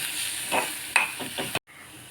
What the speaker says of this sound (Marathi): 2 ते 3 मिनिटं चांगलं परतून घेऊया याला.